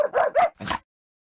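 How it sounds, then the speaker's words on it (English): A dog in a video game barks three short, close yips in quick succession, each bright and clipped, followed by silence. "Stop barking at me."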